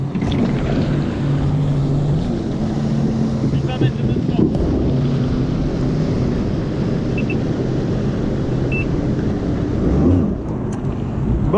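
A Sea-Doo RXT-X 300 personal watercraft riding on open water, with a continuous engine drone mixed with wind buffeting on the microphone and water rush, with some tonal rises and falls.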